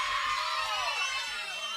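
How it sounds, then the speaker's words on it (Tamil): An audience at a live Tamil village stage drama, a Sri Valli wedding play, claps and cheers in a dense, continuous wash of hands and voices that holds steady throughout. "கைதட்டுங்க."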